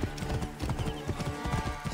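Horse hooves clip-clop in the video game Assassin's Creed Origins, a steady quick rhythm of close hoof strikes running without pause over a bed of game sound.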